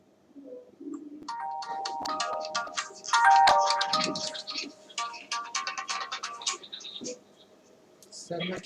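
A mobile phone rings during an online class. A close electronic tone repeats over several seconds while speech and clicks mix in, then it stops.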